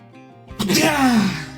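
A single sharp sneeze from a person, loud and close, starting with a brief intake and bursting into a breathy, voiced blast that trails off.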